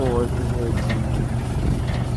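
A tractor engine runs at a steady, low idle-like rumble while hauling a water pump, heard close and continuous beneath someone speaking.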